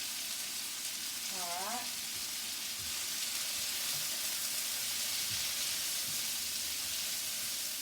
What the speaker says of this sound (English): I'm putting my onion, my celery, my carrots, and my peppers. And my peppers. Good going. And I'm going to cook it all at one time.